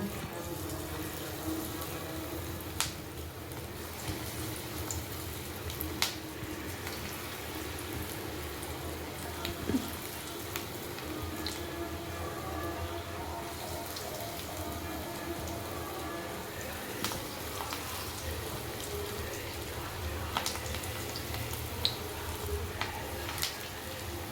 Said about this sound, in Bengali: এবার আমরা পকড়াগুলো একটা একটা করে ভেজে নেব